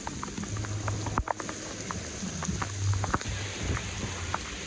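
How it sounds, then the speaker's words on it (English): Heavy rain pours at an all-inclusive resort in Cancun, where the jacuzzi is flooded; a dense, close crackling patter continues steadily throughout, with a few sharper knocks. "We gotta put up a strictly rain video now."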